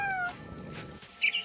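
A cat meowing in the video game What Remains of Edith Finch, a short clear meow, with a brief high chirp close behind it at the end.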